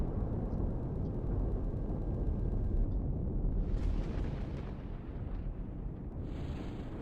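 Weapon fire and explosions in the Empyrion space survival game: a dense, continuous roar of blasts and rumbling fills the whole stretch, loud and sustained, with a brief bright shift in tone partway through and no talk.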